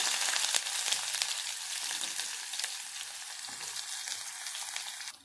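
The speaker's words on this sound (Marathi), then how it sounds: "बघा आपली तेल गरम झालेली त्यात आपण ही फोडून घ्यायची आणि इथे टाकायचं आहे आपल्याला जिरं आणि मी एक कांदा टाकते इथे" Cumin and onion fry in hot oil with an even, moderately quiet sizzle and faint crackle that runs steadily throughout, with no one speaking.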